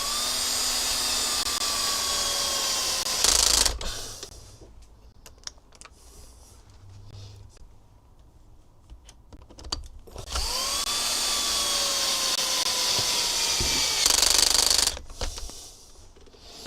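A cordless power driver whines up and spins screws into an RC car in two long bursts, close and fairly loud, with clicks and quiet fiddling with small parts between them.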